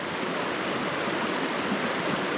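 Steady rushing water of Brice Creek in Oregon, a continuous broadband wash heard close and fairly loud, with no voices over it.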